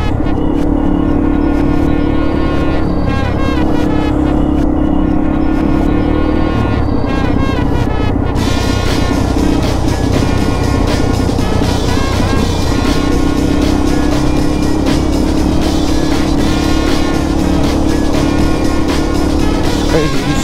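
Yamaha TW200 dual sport motorcycle riding on forest roads, its single-cylinder engine droning loud and steady throughout with wind buffeting and small shifts in pitch as the throttle changes.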